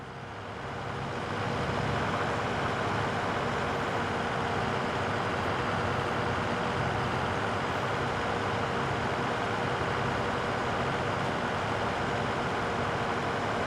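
Steady engine drone of a BMW car in a farm simulator game, loud and constant throughout after a brief swell at the start, with no speech over it.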